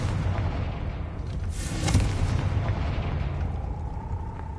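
A Confringo fire spell explodes in the Hogwarts Legacy video game, a single muffled boom near the two-second mark over heavy continuous low rumble, with no voices.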